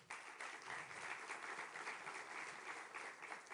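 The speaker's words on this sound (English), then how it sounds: "Je vous propose qu'on les applaudisse une nouvelle fois." Audience at a diplomatic conference in France on the two-state solution gives a round of steady applause, continuous clapping from a large room heard at a distance and fairly faint.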